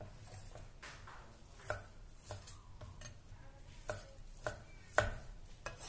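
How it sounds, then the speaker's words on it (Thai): Tofu being cut into chunks on a cutting board with a knife, a steady series of sharp chops at an uneven rhythm, close up and moderately quiet, with no talk. "ส่วนตัวเต้าหู้เราหั่นเป็นท่อนเลยค่ะเล็กใหญ่แล้วแต่ชอบนะคะ"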